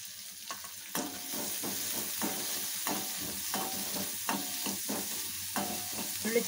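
Onion frying in oil in a pan for a mutton brain fry, a steady loud sizzle with repeated stirring scrapes of a spatula at a loose rhythm, close up and without talk.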